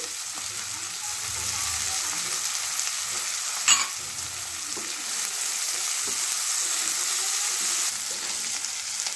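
Green peas and vegetables frying for upma and being stirred, a steady close sizzle throughout with a brief scrape of the spatula midway.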